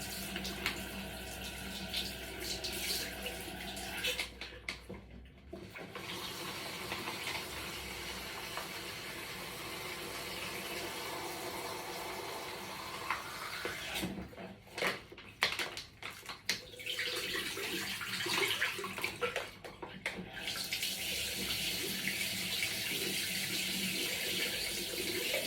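Water from a tap pours steadily to fill a Peristeen irrigation bag, a continuous close hiss and splash that briefly cuts out twice before resuming.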